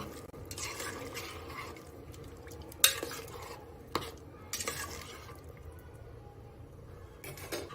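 Mutton pieces are stirred into hot water in a pot for aloo gosht, giving a steady scraping, sloshing texture with a few sharp clinks of spoon against metal, close and moderately loud, with no talking.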